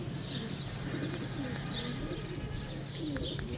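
Flying pigeons coo softly in low, rolling calls, with a few light chirps over a constant background hum; no one speaks.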